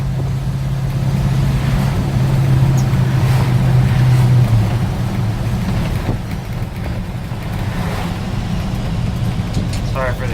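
Steady engine drone and road rumble fill the cab of a 1966 International Harvester 1300A one-ton pickup carrying a bolt-in camper as it cruises in fourth gear around 45–50 mph, with a brief mechanical whine early on.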